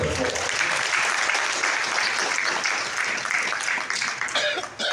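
Audience at the FESPACO 2025 poster unveiling gives sustained, dense applause that continues throughout, loud and close with no break.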